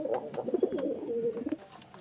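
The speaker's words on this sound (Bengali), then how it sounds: "দেখতে পাচ্ছেন দুটোই পাউডার কালারের পায়রা" Powder-coloured domestic pigeons coo nearby in a pen, with soft, throaty rolling calls repeating close to the listener over a murmur of background noise.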